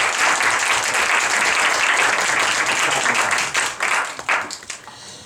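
Steady, warm applause from a seated audience at a Korean church lecture gradually thins into scattered final claps, with no talking over it.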